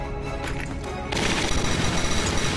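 A Gatling gun in Valkyria Chronicles Remastered opens up in a loud, sustained burst of rapid automatic fire that starts abruptly and continues to the end.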